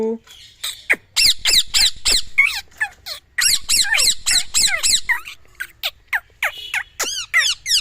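Pet parakeet (tiya pakhi) squawking in rapid harsh bursts, close and loud, with repeated raspy calls filling the whole stretch and brief gaps between.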